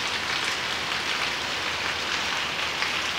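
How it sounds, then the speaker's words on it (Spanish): Heavy rain pours down steadily in Pauza, a dense, even hiss of water hitting surfaces close by for the whole stretch, with no voices. "Mira la lluvia."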